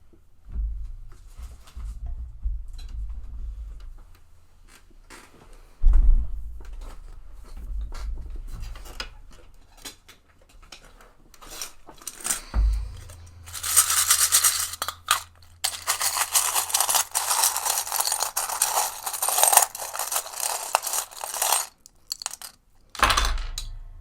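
Small metal charms handled before a tarot reading, giving soft jingling and clinking that swells into a long stretch of dense rattling, with low thumps and rumble between.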